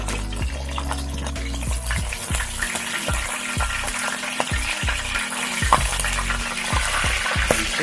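Pompano fish frying in a pan over medium-low heat, giving a steady, dense sizzle throughout with intermittent sharp pops and crackles rising above the bed of hiss.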